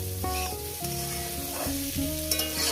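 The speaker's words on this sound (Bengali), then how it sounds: "গ্যাসটাকে লোটে করে দিয়েছি আস্তে আস্তে করে আমি এটাকে ভাজবো" Small mourala fish fry in oil with a few garlic pieces over a low gas flame, giving a continuous close sizzle with tonal music playing over it.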